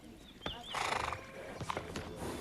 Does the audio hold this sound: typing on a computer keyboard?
no